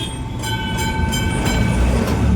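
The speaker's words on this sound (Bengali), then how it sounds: "উল্টো দিক দিয়ে কিন্তু একটা ওই পুরোনো দিনের ট্রাম কিন্তু পাশ দিয়ে বেরিয়ে গেল" An old-style wooden heritage tram rolls past close by on its rails, a loud steady rumble with rhythmic clicking wheel knocks throughout and no talking.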